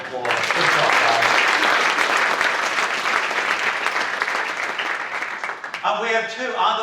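A crowd at a corporate awards ceremony gives a full round of applause, steady and loud for about five seconds and then fading, after which a voice begins speaking.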